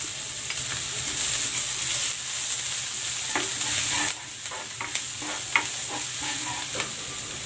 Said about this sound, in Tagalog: Igisa ko na tong bawang. At ang sibuyas.